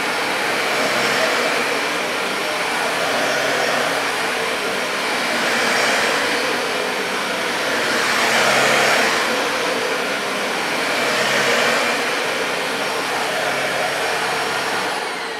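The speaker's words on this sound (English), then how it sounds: "here's my first go of a Dyson DC40" A Dyson DC40 Multifloor upright vacuum cleaner (2015) runs continuously with a steady, loud broadband whoosh and high whine, swelling and easing in slow waves as it is pushed back and forth, with no voices.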